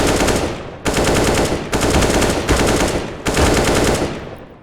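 Automatic rifle spray in CS:GO: loud, dense bursts of rapid gunfire in several long strings separated by brief gaps, close and continuous with no talk.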